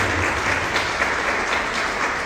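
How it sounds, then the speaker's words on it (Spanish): A live audience claps for a visiting gynecologist after a Spanish-language expert talk, giving a loud, even wash of applause that holds steady throughout without letup. "vamos a darle un aplauso a la doctora que nos regaló su tiempo"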